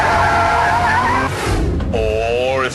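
A Ferrari 599's tires squeal loudly through a corner, two long, wavering screeches over a steady engine roar, close and intense with no voices.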